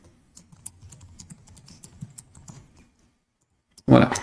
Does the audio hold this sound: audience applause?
no